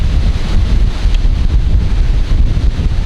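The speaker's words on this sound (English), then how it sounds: "it's supposed to be windy all day long" Strong wind gusting and buffeting loudly across the microphone outdoors, a continuous rough roar with no voices.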